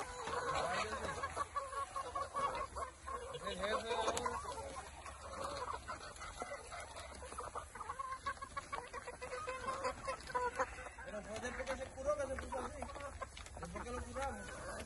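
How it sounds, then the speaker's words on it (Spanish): A rooster clucks repeatedly in short, uneven bursts over a steady background hum, moderately close, with faint voices now and then. "Es un gallo ya."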